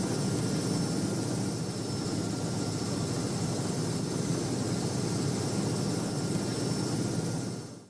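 Aircraft engine in a flight simulator game, a constant loud droning hum with a steady propeller-like whine that stays level throughout and cuts off at the end, with no talk.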